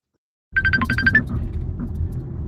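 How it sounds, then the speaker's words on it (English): A phone rings with a repeated incoming call: a short burst of bright electronic ringtone chirps, then it stops and leaves a steady low rumble with no talk. "this fucking phone call will not stop"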